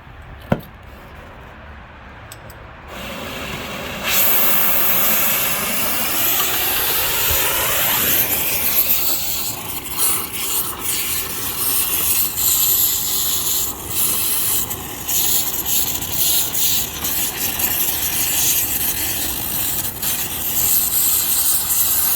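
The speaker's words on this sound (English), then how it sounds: "So we've just been using the oxyacetylene torch to blast them out." An oxyacetylene torch roars steadily while blasting old suspension bushings out of a car chassis during a budget build; the loud, continuous hissing rush starts after a few quiet seconds and holds for the rest of the clip, with no talking.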